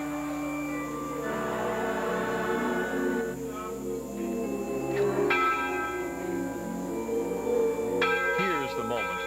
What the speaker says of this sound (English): The ringing of the bell for the first time